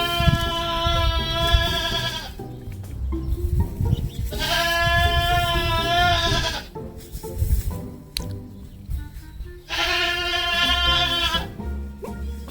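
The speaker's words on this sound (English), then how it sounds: "that's Leroy screeching because he can't see us" A goat on a farm screeches in three long, loud, close bleats separated by brief pauses filled with low shuffling noise.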